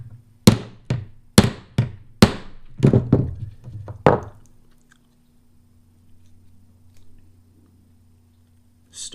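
A hammer drives rivets over a beam while a barrel end is flared: about a dozen sharp, close metallic blows in uneven bursts, then quiet with a low hum.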